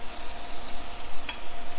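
Little potatoes sizzle and fry steadily in a pan, a continuous close crackle with occasional louder pops, alone without voices.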